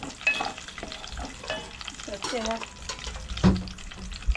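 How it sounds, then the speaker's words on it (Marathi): Cashews and almonds roasting in ghee sizzle softly while a spoon stirs and scrapes the pan, irregular clinks and scrapes up close, with a voice faintly in the background. "काजू आणि बदाम व्यवस्थितपणे भाजून घ्यायचे आहेत तुपामध्ये"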